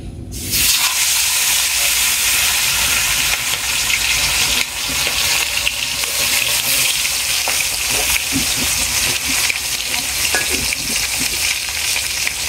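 Small fish coated in turmeric, chili and salt frying in hot oil, a loud continuous sizzle with crackling spits and occasional stirring scrapes, close up and without talk.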